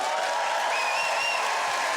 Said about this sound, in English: Applaud if you're a Londoner.